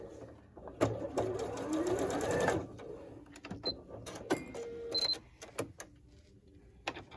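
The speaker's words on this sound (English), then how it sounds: "I'm just going to lay that in my sewing machine there." A sewing machine stitches a quilt block a quarter inch from the needle, a steady close whirring run for about two seconds, followed by scattered clicks and taps of the machine and fabric handling.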